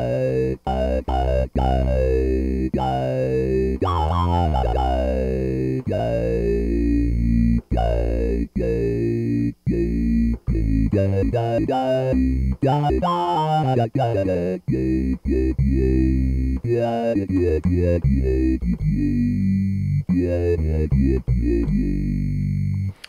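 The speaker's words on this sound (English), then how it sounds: "You can kind of hear the frequency modulation kind of tricks you can do there" Buzzy Minimoog synthesizer tones warp and wobble under frequency modulation in choppy, speech-like bursts, as if the synth is talking, loud and continuous with sharp stops throughout.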